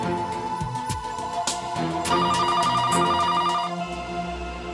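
A telephone rings in a Hindi TV drama scene, a repeating electronic ringtone with bright tonal pulses that sit over a musical score and a few sharp accents, loud and near, with no talking.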